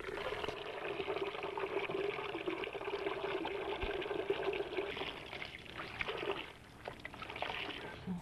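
Soaked dough for lemon zamboa sweet squeezed hard inside a white cloth bag, water pouring and trickling out in a steady, fairly loud stream that runs for several seconds with a brief dip near the end.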